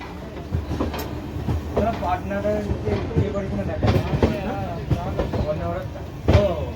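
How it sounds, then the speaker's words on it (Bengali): An Amrit Bharat Express train pulls away from Bardhaman station, its steady rumble and clickety-clack of wheels on rail joints running throughout, with periodic louder knocks and a voice talking over the noise. "আমাদের ট্রেন এখন ছেড়ে বেরিয়েছে বর্ধমান স্টেশন থেকে"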